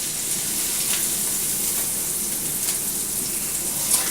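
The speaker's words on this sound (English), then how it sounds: "got that going, and it's sauteing nicely" Crab filling sautéing in a pan, a steady, even sizzle held at moderate loudness throughout, close by with no talking.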